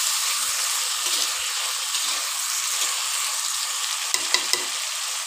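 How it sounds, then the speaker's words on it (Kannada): Tomatoes hiss and crackle as they fry with onions in a pan for a coastal-style okra palya, a loud, constant close sizzle with a few light utensil taps near the end and no voices. "ಈಗ ಟೊಮೊಟೊ ಹಣ್ಣು ಹಾಕೊಂಬೋ"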